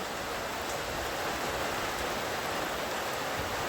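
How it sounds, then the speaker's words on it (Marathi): Heavy rain pours steadily in Dapoli, Ratnagiri, a dense, even hiss of drops on surfaces that fills the whole moment close around, with no voices. "पाऊस बघा कसला आला"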